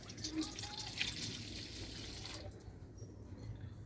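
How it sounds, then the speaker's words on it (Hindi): A cup of milk poured into a bowl makes a brief liquid splash and trickle, close and moderately loud, stopping abruptly partway through and leaving quiet room tone. "1 कप दूध का ऐड करेंगे।"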